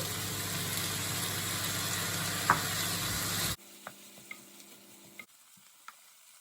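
Egg fried rice with sweet corn sizzles loudly in a pan while a utensil stirs it, then the sound drops abruptly to a quiet hiss with a few faint clinks and scrapes.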